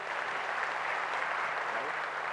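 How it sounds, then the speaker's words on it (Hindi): A large audience clapping at a spiritual gathering, a continuous even wash of applause heard at a distance and fairly faint, with some voices blended in. "अपने लिए जोर से तालियां बजाइए"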